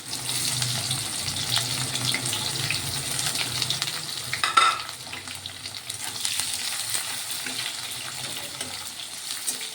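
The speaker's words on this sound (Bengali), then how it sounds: "আলুগুলো লাল লাল করে ভাজা হয়ে গেছে এবার পেঁয়াজ দিয়ে দেবো" Chopped onions, about three medium ones, dropped onto potatoes already fried golden red, frying with a steady broadband sizzle and a brief clatter midway; no talk.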